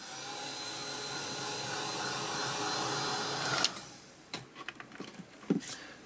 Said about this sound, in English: let's give that a blast with the heat gun and get it dry